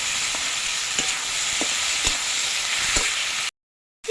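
Whole cumin, sliced onion and tomato hit hot oil in a pan for a Bengali rui fish curry, giving a steady loud sizzle with a few sharp stirring knocks before the sound cuts out abruptly.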